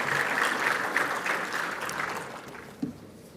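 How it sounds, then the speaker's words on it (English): A conference audience at a forum launch event applauds with dense, steady clapping that gradually thins and fades toward the end. "let's give a round of applause for our online community watching us today"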